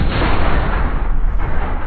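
A tank cannon shot in the console version of World of Tanks, a sustained loud booming blast with a rumbling tail filling the whole short moment, no talking over it.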